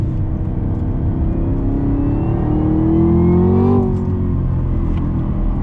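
A Chevrolet Camaro ZL1 engine revs up steadily in first gear, its rising drone loud and close, then drops off as the throttle lifts.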